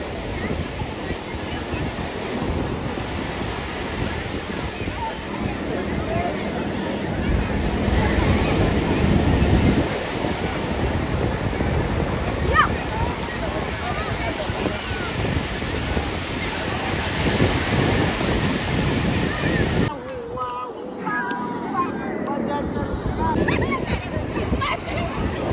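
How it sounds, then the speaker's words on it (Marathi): Ocean surf on the Konkan coast rolls and breaks steadily on the shore, with broadband wave wash and wind buffeting the microphone throughout, and one large wave surging in; the roar briefly drops out near the end. "ती बघ एवढी मोठी लाट आली."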